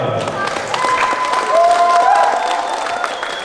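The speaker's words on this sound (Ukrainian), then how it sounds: "Оплесками дякуємо." A crowd claps in a burst of applause that swells briefly and continues steadily, with a faint voice and some cheering in the background, at a school sports competition awards ceremony in Ukraine.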